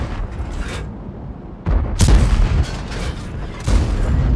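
Tank cannon fire in World of Tanks, heavy booming shots with sharp cracks, several close loud blasts and rumbling echoes in quick succession, with no voices.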